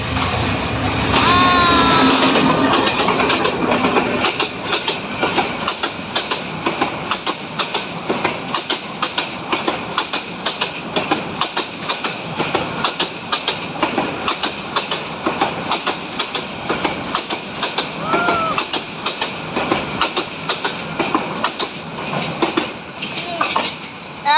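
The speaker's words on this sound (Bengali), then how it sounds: "একদম শ করে ট্রেন এসে পড়তেছে" A train passes close by on a railway line beside houses, a loud continuous rumble with rhythmic clickety-clack of wheels over rail joints, dense and steady throughout.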